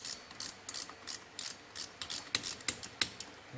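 A hand ratchet loosening rocker box bolts on a 1974 Triumph Trident motorcycle: a close series of sharp, rapid clicks in short bursts, about twenty in all, with no talk.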